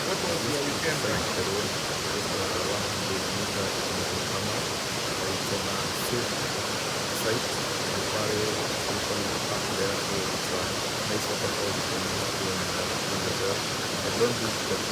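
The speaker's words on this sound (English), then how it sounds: "my perfect weekend will end with this a beautiful waterfall in front of me" A waterfall in Eldama Ravine, Baringo County, pours with a steady, dense broadband rush that holds even and unbroken throughout, loud and close with no other distinct sounds standing out.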